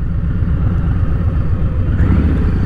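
Deep, steady rumble of a Harley-Davidson Softail Standard's Milwaukee-Eight engine idling or cruising, loud and close, with a slight rise in revs near the end.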